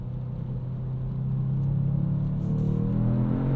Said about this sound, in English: It does make the car a little bit louder in sport mode too